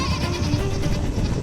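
Mountain goats bleat on rocky slopes, a single loud, close, wavering bleat that carries on for more than a second.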